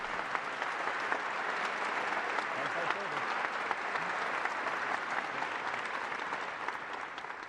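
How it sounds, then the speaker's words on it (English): An audience at a military twilight tattoo ceremony gives a sustained, dense round of applause honoring the honorees, steady and loud throughout with no break. "please join the Chief of Staff of the Army in a hearty round of applause for the honorees"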